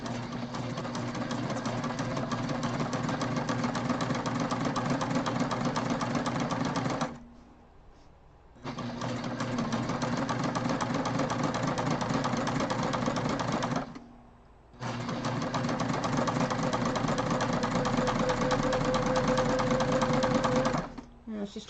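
A sewing machine stitching backpack fabric, running in long continuous bursts with a steady mechanical whir and rapid needle rhythm, stopping briefly twice between runs.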